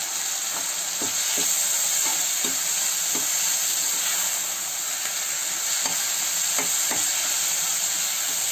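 Tomato sizzles in hot oil in a pan for a mixed greens rasa palya, a steady frying hiss broken by scattered scraping taps of a stirring spoon.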